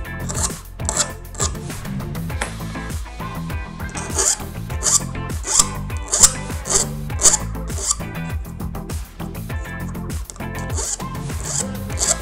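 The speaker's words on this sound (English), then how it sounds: "I'm just gonna deburr. It's a little bit of a burr on the back side." A tool rasps over the back side of a slot cut in a PEX build plate, removing a burr in quick, repeated scraping strokes. The strokes are close, fairly steady and in a loose rhythm.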